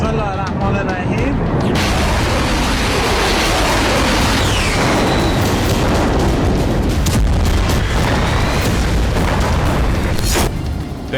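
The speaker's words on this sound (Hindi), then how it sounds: "तेहरान के पास ये वो ब्लास्ट है जिससे तीसरे विश्व युद्ध के विनाशक शोले भड़क सकते हैं।" An explosion blast near Tehran, Iran: a loud, sustained, deep roaring rumble with crackling noise that fills the whole stretch and cuts off abruptly at the end.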